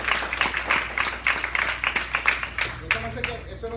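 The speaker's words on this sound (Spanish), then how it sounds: "Da un fuerte aplauso al rey." A church congregation claps during a sermon, a run of fairly rhythmic claps, loud and near, thinning toward the end as a voice and low musical tones come in.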